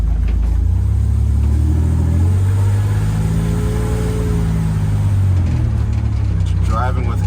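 A Buick Grand National engine pulls steadily while driving on 87-octane fuel, a deep continuous rumble with rising and falling revs, joined by window rattle and wind noise through open windows.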